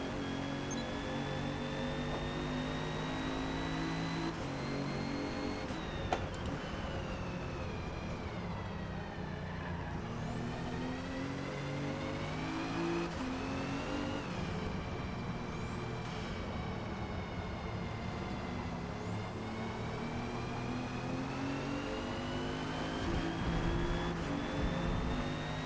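A 2017 Alfa Romeo Giulia in Forza Motorsport racing at Grand Oak, its engine droning steadily and sweeping up and down through gear changes, loud and continuous throughout with no talking.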